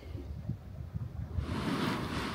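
Sea waves break on the Black Sea shore at Balchik. A soft rumble of surf and wind grows into a broader, louder wash of water partway through.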